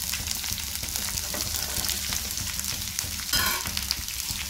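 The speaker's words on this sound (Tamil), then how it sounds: "இப்போ வந்து அவரைக்காய் ஆட் பண்ணிக்கலாம்." Broad beans go into a pan of frying onions and chillies, making a continuous close sizzle with light stirring scrapes and a brief louder burst of crackle near the end, with no voices.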